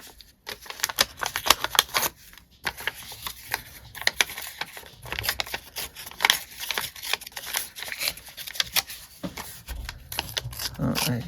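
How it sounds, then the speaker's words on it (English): Paper is ripped by hand for a craft project in a series of short, crisp tearing bursts, close by and irregular, with a voice talking at intervals. "And I'm just going to take and do some ripping here."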